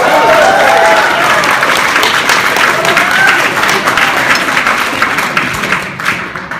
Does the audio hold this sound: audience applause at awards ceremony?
yes